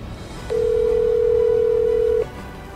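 An outgoing phone call gives a single steady electronic ringback tone lasting about two seconds, clear and fairly loud, with a faint background hum before and after it.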